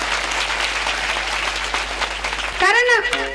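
An audience at a Marathi kirtan on the seventh day of a Ganapati Mahapuran reading breaks into loud, sustained applause for a family. A voice starts speaking near the end.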